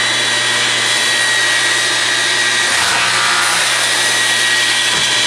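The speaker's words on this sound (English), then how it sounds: "I'm just going to drill a quick little test hole here so you can see that it works." A Hettich Blue Max hinge boring machine drilling a test hole in wood: a loud, steady motor whine with a broad hiss, plus a couple of short dips and thumps as the bit engages.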